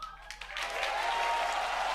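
A crowd applauds after a SpaceX Falcon 9 booster landing, clapping swelling from quiet to a steady wash of sustained applause, heard a bit distant and muffled.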